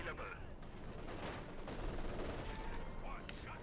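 MG42 machine gun fire in the Company of Heroes 2 video game, a dense, continuous rattle of gunfire in a busy battle mix, moderately loud with a commentator talking over it.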